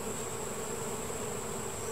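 Bees buzz in a dense, steady hum, many insects droning together close by, faint but continuous.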